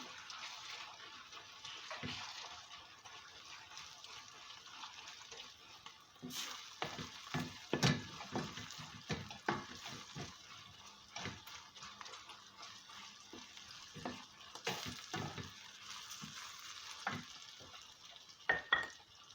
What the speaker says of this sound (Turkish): Buraya da salçayı koyalım. Salçamızı da kavuralım.